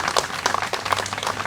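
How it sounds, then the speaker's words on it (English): Audience applause at a Museum of Art press briefing, a steady wash of many hands clapping that stays dense and even throughout, with a faint voice underneath. "Please give a round of applause for that."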